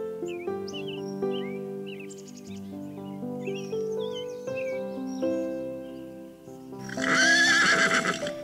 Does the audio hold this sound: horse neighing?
yes